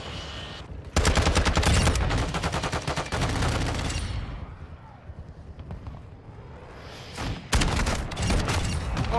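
Rapid bursts of automatic gunfire and sniper shots ring out in a futuristic shooter game with VTOL aircraft, loud and dense for several seconds, then a quieter stretch before another burst. Game noise continues beneath.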